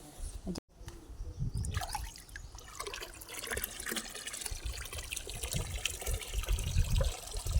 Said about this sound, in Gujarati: પાણી ટાંકો ભરાઈ ગયો